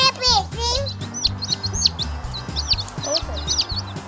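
Baby chicks peep in rapid, high repeated chirps in a yard, close and steady throughout, over a low pulsing music beat with a voice briefly talking and squealing near the start.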